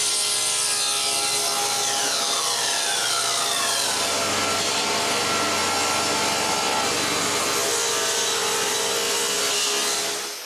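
A table saw with its blade tilted makes angled cuts in wood, a loud, sustained high whine and roar with shifting tones as the blade bites through the workpiece, fading at the end.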